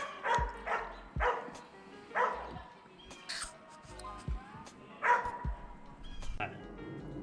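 Several dogs bark nearby in short, irregular bursts, with other animal calls mixed in, heard during outdoor work on a Volvo 240.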